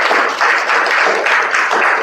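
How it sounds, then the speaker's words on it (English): A dense, loud round of applause for the Toastmaster at a Toastmasters club meeting, heard as steady crowd clapping close by with no talking over it. "Can we have a huge round of applause for our wonderful Toastmaster of the day?"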